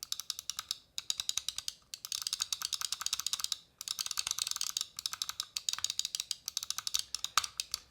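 Rapid, crisp clicking of the magnesium main buttons with optical switches on a Razer Viper Mini Signature Edition gaming mouse, close-up in steady bursts with brief pauses, no talk.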